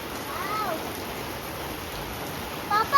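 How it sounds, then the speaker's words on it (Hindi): Steady rain falls outside a house near a guava plant, a continuous soft hiss of drops, with a brief voice and a couple of small sounds near the end. "और बारिश हो रही है"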